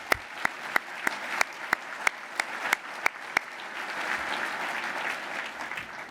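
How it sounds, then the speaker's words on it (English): Audience at a government affairs forum applauding, with a few sharp distinct claps at first swelling into steady, dense applause from a room full of people. "So how about a big round of applause for Jim?"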